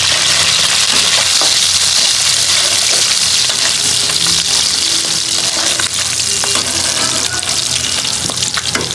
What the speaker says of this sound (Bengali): তো দেখেন চিংড়ি মাছটা কিন্তু ভাজা ভাজা হয়ে গেছে। এখন এখানে ফালি করা কাঁচামরিচ দিয়ে দিলাম।